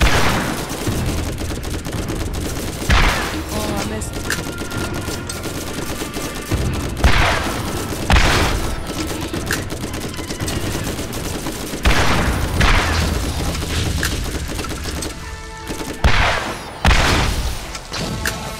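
Video game gunfire in Borderlands, repeated bursts of rapid shots and booming impacts in clusters every few seconds over a continuous loud battle din.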